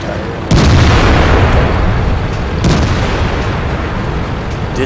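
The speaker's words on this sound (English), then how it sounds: "Tiger. Disappears in a hail of gunfire." Tank gunfire in the video game World of Tanks: two heavy, loud cannon booms about two seconds apart, each followed by a rumbling roar that lingers and slowly fades.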